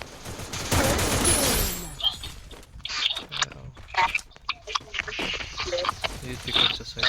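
Bursts of gunfire in the mobile battle royale game Free Fire, a loud volley first and then scattered choppy shots, with people talking excitedly over the action.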